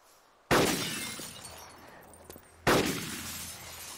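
Glass shattering in the video game DayZ, two loud crashes about two seconds apart, each followed by a ringing, tinkling decay of falling shards.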